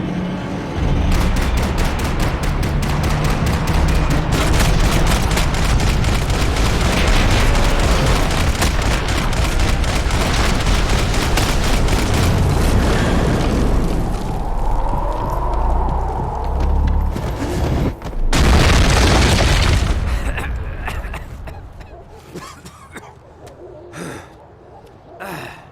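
Dense, rapid bursts of gunfire from a Max Payne 3 shootout, loud and sustained over a busy game soundscape, with a gasp and a heavy boom-like impact late on before things quieten.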